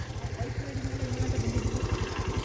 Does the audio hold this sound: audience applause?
no